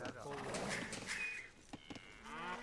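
Cattle in Age of Empires II give a few distinct moos over the game's ambient sounds, fairly close and clear, with short clicks from unit commands in between.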